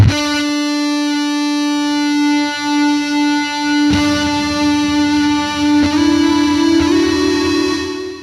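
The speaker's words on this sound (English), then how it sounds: "And then lastly, we did a digital reverb." A sustained guitar note drenched in reverb from a Fender Hammertone digital reverb pedal, with a few more strums blooming into a long, shimmering tail that hangs in the air.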